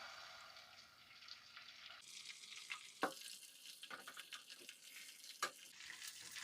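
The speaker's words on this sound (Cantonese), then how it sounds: "首先將啲蛋炒熟咗先" Eggs stir-frying in an oiled wok over medium-high heat, a soft sizzle with scraping spatula strokes and a few sharp clanks against the metal, fairly quiet and close.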